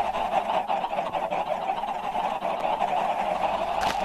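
Chickens in Minecraft, ten of them, cluck and squawk in a repeated honking pattern over a steady game background, with a brief sharp burst near the end.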